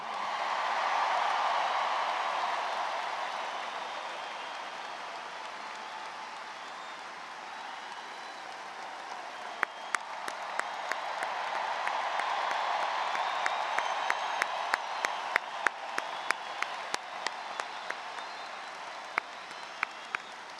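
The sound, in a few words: crowd applauding at a baseball retirement ceremony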